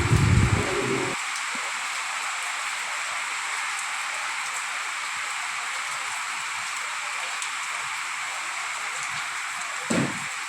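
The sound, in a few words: rain falling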